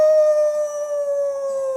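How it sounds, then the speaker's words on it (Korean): A wolf howl used as a sound effect in a Three Little Pigs story: one long, loud, sustained howl with a steady pitch that sags slightly, heard alone without talk. "어디서 늑대 울음소리가 나잖아."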